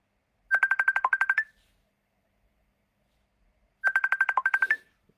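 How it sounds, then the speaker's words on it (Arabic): Mobile phone ringing, two short bursts of a rapid electronic beeping ringtone about three seconds apart, clear and alone against silence. "معلش الموبايل بيرن"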